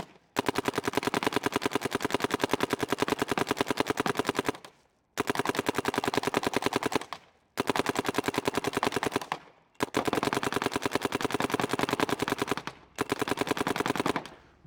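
DLX Luxe IDOL paintball marker loaded with GI 5-star bright glow fill, firing long rapid full-auto strings of dense, evenly spaced shots, broken by four short pauses, loud and close with no talking.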